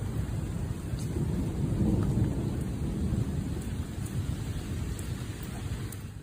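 A thunderstorm over Paris brings heavy, steady rain and a deep rolling rumble of thunder that swells and fades, loud and close, with no voices.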